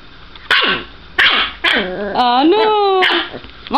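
A dog barks several times in sharp bursts on command, then gives a longer whining, yelping vocalization; a person repeatedly urges it between the barks.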